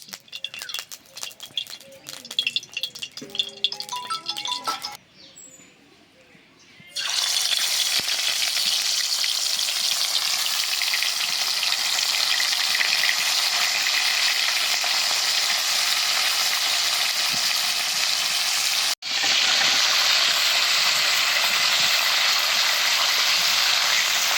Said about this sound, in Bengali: এবার মাছগুলো আমি ভেজে নেব তার জন্য কড়াইতে দিয়ে দিচ্ছি সর্ষের তেল